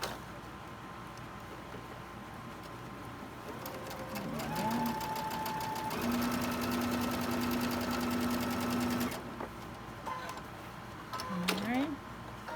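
A sewing machine stitches in short bursts, its rapid mechanical whir rising and stopping with pitch changes, fairly close and moderately loud, while thread is run through for a quilting block.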